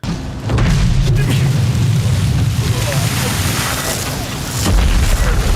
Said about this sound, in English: the explosion is just getting closer and closer